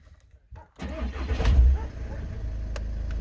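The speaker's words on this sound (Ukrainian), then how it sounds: "зараз приїхали на місце, запускаємо автомобіль" A Volkswagen 2.0 TDI diesel car engine cranks briefly after a quiet moment, catches with a loud surge, then settles into a steady, even idle, heard up close.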